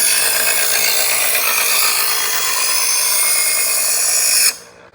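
Knife being drawn through a Chef's Choice sharpener, a steady, continuous grinding hiss with a close, even rasp that holds for several seconds and then cuts off abruptly near the end.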